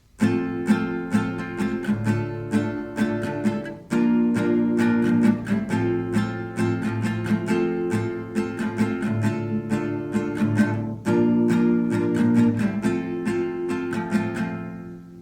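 A love-song chorus strummed on acoustic guitar, steady chord strokes in a repeating rhythm, close and solo, with short breaks where the chords change.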